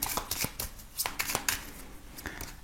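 Lenormand cards shuffled by hand for a reading, a quick series of soft riffling flutters and paper slaps in uneven bursts, close and fairly quiet.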